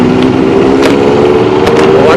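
Kawasaki Ninja Z900 motorcycle engine idling close by with a steady, even hum throughout, while people talk nearby.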